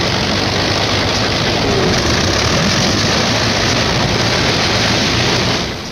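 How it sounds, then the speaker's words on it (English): Several P-51 Mustang fighter plane piston engines warm up on the flight line before a long-range mission, a steady, loud, dense propeller drone holding constant throughout and easing slightly at the end. "P-51s are warming up for the longest fighter flight on record."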